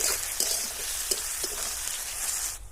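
Garlic paste hitting hot oil with onions and slit green chilies in a pan, a steady close sizzle of frying with faint clinks, cutting off near the end.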